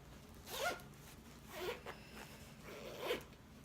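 The zipper on a knitting needle case with front and back pockets is pulled in three short rasping strokes, close and fairly quiet, with no talking.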